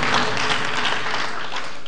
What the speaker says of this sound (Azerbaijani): Mən burada susuram, ancaq alqışları dinləyirəm.